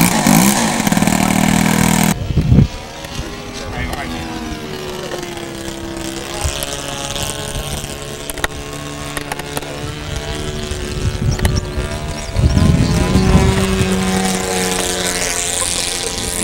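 A radio-controlled model airplane engine at a Cub Scouts flying demo drones loudly and continuously, its pitch rising and falling as the throttle changes, with faint voices underneath.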